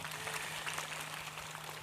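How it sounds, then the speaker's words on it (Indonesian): Crowd applause at a public gathering, a faint, even spread of clapping heard from a distance with a low steady hum beneath it. "Tepuk tangan untuk Letkol Teddy."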